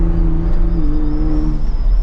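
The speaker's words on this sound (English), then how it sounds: "this thing makes some noise, and you can hear the turbo." A loud, close turbocharged 2023 Ford Bronco Raptor engine roars steadily at high revs in sport mode, its deep drone holding then shifting slightly in pitch.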